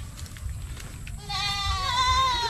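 Goat bleating on a small vegetable-growing plot, a wavering harmonic call rising over steady low background rumble in the second half, fairly close and moderately loud.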